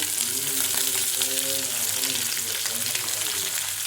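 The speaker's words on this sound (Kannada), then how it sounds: "ಈಗ ಕರಿಬೇವು ಸಣ್ಣದ ಕಟ್ ಮಾಡ್ಕೊಂಡಿರೋದು ಅದನ್ನ ಹಾಕ್ಕೊಳ್ಳೋಣ." Finely chopped curry leaves hiss in hot oil for masala paddu, a continuous close sizzle with a steady crackling wash and a faint tonal hum woven through, no speech over it.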